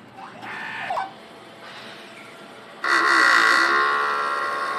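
An inkjet printer runs a print head cleaning cycle, whirring and clicking mechanically, then dropping quieter before a louder, sustained motor drone kicks in.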